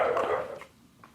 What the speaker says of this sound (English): it's like the dogs have got nothing better to do today, Sash. Howling and everything